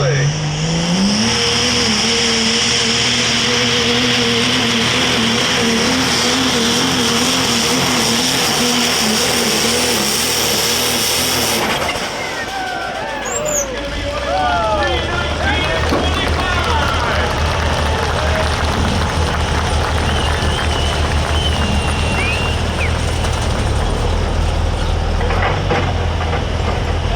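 Loud, continuous roar of a pulling vehicle's engine during a competitor sled pull at the Ultimate Callout Challenge 2025, rising in pitch for several seconds before shifting into a rougher, broadband drone with crowd noise and an announcer talking over it.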